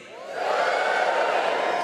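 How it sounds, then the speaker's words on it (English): Live comedy audience at the Apollo cheering and whooping together, a loud sustained roar that swells quickly and holds steady. "Give me a cheer if you like flying"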